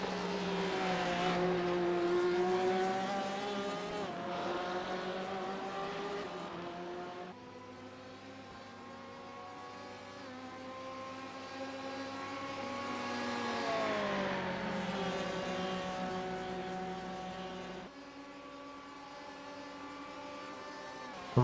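Race cars lap the Imola circuit at night in a racing video game endurance championship, engines holding a loud, high, steady whine that rises and falls with each gear shift and corner, with no talking over it.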